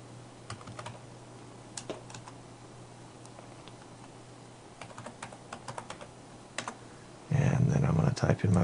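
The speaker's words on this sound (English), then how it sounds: "And I'm going to type in my Decast login." Typing a login on a computer keyboard: scattered, light key clicks in short irregular bursts, close and quiet, followed at the end by a person starting to speak.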